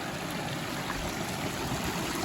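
Rainwater overflows from a village pond after two days of continuous rain, a steady close rushing and gurgling flow with no voices.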